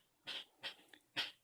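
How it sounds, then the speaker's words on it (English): A dog plays with her toy nearby, making three short, bright bursts of noise with brief gaps between them and no talking. "the dog is playing with her toy"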